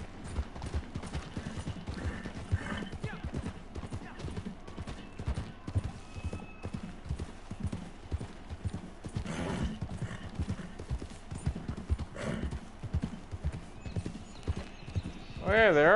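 Horse hooves clip-clop in a steady, continuous rhythm in Red Dead Redemption 2 online, close and moderately loud, with a horse whinnying near the end and people talking over the hoofbeats.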